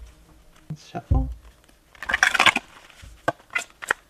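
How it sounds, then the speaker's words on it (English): Tarot cards are shuffled by hand, with scattered rustles and a dense burst of crisp riffling and slapping near the middle. A voice speaks intermittently between the card sounds. "Let's shuffle."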